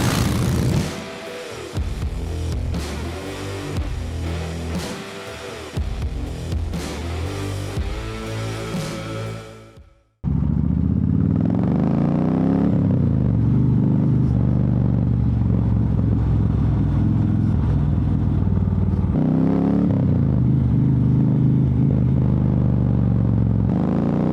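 A Harley-Davidson Street Glide Special on its first ride of 2025. A stretch of music cuts abruptly to a steady, loud, low engine rumble with wind noise as the bike rides on.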